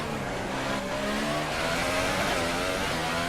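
A Williams F1 car in the F1 2018 game at Monaco screams at high revs, a dense, loud, continuous engine whine with rising and falling pitch that fills the whole moment, no speech.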